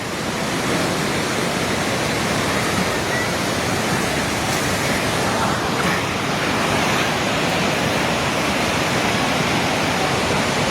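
A steady, loud roar of rushing floodwater from a river flooding Trishuli Bazar in Nepal fills the whole stretch without a break, dense and churning, with no voices above it.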